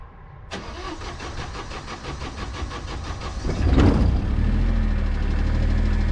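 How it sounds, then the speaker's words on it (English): A generator cranks over and catches, settling into a steady running drone after a burst of starter noise, heard up close with no talk. "flick that to start, the generator should crank up"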